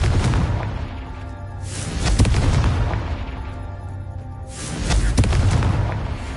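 Confringo spell blasts in the Hogwarts Legacy video game, heavy booming explosions rolling out in two big swells, loud and close with a low rumbling tail, no talking.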